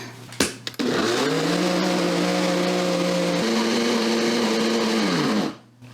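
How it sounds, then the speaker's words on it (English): Blender running on high through a dense meat bread mixture: a loud, steady motor whine that shifts pitch slightly partway through, then winds down, with a few clunks as it starts. "I'm going to give this a blend"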